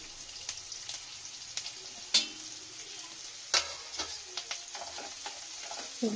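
Chopped capsicum sizzles steadily in a hot pan while it is stirred, giving a continuous close frying hiss with a few sharp scrapes and clinks of the spoon against the pan.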